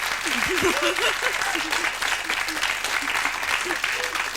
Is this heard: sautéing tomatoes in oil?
no